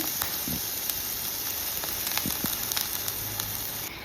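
Ginger-garlic paste hits butter in a pan for a Kerala fried chicken biryani, giving a steady close sizzle with scattered sharp pops and crackles throughout.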